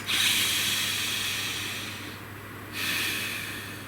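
Slow, steady breaths during a tarot reading, a long airy exhale fading out, a brief pause, then another breath drawn in, close and hissy over a low hum.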